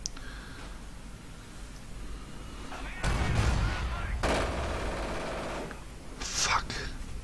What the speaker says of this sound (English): but this is under heavy artillery fire